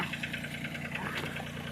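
Kioti 2610 compact tractor engine idling while warming up, a steady low rumble with a faint knocking pulse, continuous and close throughout.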